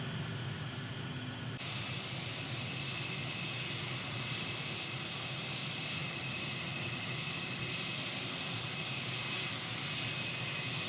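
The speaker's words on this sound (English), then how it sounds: "We have an American 777 taxiing out from the ramp" An American Airlines Boeing 777 taxis at John F. Kennedy International Airport in Microsoft Flight Simulator 2020. Its jet engines give off a steady, continuous roar and hiss, with a higher whine joining early on, and nobody speaks.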